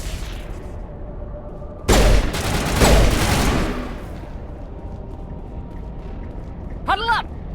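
Gunfire in Mass Effect 1 Legendary Edition, a loud burst of rapid shots followed by a second volley, then quieter ambience and a short electronic chirp, with a player talking over it.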